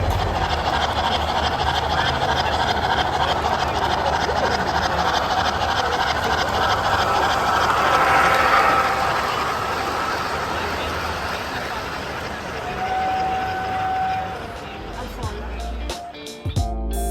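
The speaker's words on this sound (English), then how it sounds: "that's just the actual VRE train pulling in" A VRE commuter train rolls into a station with a broad, rushing rumble and a short squeal of brakes, ending with clanks, while faint voices murmur underneath.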